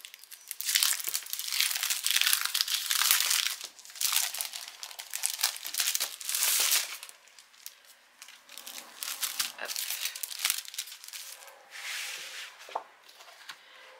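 A wrapped 30x30 cm scrapbooking paper pad being opened, with loud, continuous crinkling and tearing of plastic wrap that comes in several bursts and runs close-up for the whole span.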